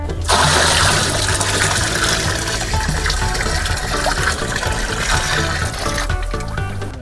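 A herbicide and water mixture is poured into a spray tank for weeding a sugarcane field, a loud continuous gushing and splashing of liquid lasting several seconds.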